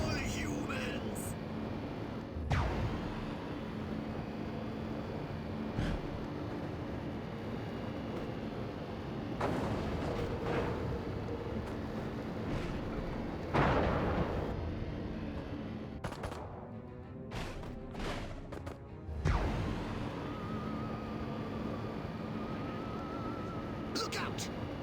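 Video-game gunfire in Destroy All Humans! crackles through a continuous battle mix, with several sharp shots and bursts over a rumbling backdrop and voices calling out between them.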